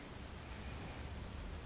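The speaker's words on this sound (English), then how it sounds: "we're gonna have a fight in the rain" Steady rain during a fight in the video game Final Fantasy 16, an even hiss of falling water filling the clip at moderate level with no voices.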